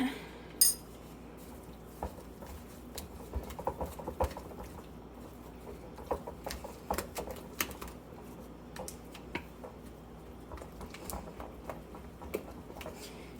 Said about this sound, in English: you are then going to mix it up.